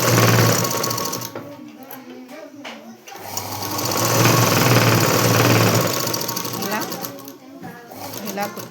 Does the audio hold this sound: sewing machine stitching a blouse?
yes